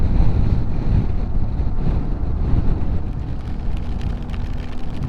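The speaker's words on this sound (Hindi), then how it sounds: "बारिश यहाँ पे हो गई है तेज़" Heavy rain and wind roar during a motorcycle ride on a US highway in a storm, a dense, steady wash of noise with low rumble that stays loud and continuous throughout.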